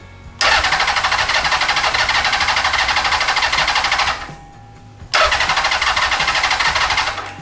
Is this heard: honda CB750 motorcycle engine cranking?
yes